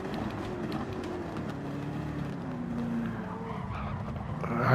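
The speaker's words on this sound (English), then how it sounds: "All I heard was tires screeching." Tires squeal and skid under steady engine roar during a Gran Turismo 7 Manufacturers Cup race, the race cars loud and continuous with no talk.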